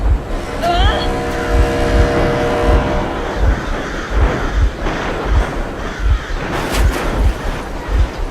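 A vehicle engine in the video game Metro Exodus runs with a low, rumbling pulse and recurring heavy thumps under voices, holding steady throughout.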